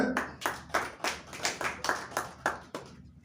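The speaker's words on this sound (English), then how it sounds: "Let's clap for them." About a dozen distinct hand claps at a steady, slightly uneven rhythm, close and fairly quiet, with no talking over them.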